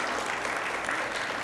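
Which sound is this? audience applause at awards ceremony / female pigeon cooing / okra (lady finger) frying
audience applause at awards ceremony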